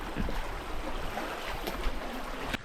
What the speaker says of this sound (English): We've just come to a beautiful little feeder creek that runs into the main creek